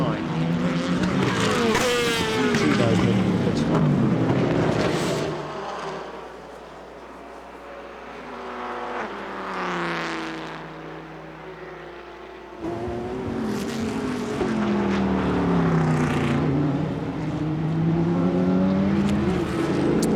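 Race cars at Sebring circuit in the evening during an endurance sports car race, engines roaring loudly and passing close with rising and falling pitch, a quieter lull mid-way, with a commentator talking over the track noise.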